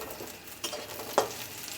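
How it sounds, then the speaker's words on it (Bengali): Bori, dried lentil dumplings, fry in oil with a steady low sizzle, broken by a couple of brief stirring scrapes and no speech. "আমি বড়িটা একটু লাল লাল করে ভাজতে হবে"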